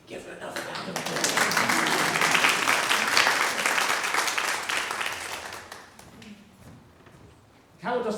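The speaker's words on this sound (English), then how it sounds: "Give her another round of applause." A congregation at an all-age church service breaks into sustained applause that swells, holds for several seconds, then thins out and fades, with some voices mixed in.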